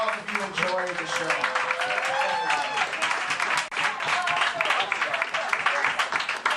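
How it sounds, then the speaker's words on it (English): Applause from a show audience swells into steady clapping mixed with cheers and whoops, fairly loud throughout, with voices calling out over it. "Give a round of applause if you enjoyed the show."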